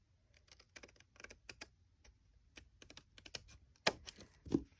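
Scissors snip off the tab of a paper file folder with a scattered series of small crisp clicks and cuts, quiet and close, ending in a couple of louder snaps.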